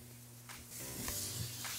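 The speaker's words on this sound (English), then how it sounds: "Oh yeah, you hear that sizzle." Seasoned burger patties hitting a hot pan, giving a steady close broadband sizzle that swells slightly as the meat settles, with no talk over it.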